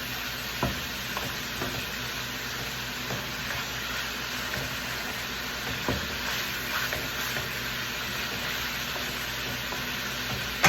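Minced lamb sizzles steadily in a pot for wild fried rice, a continuous close frying hiss broken by a few soft knocks and stirring scrapes, with no voices.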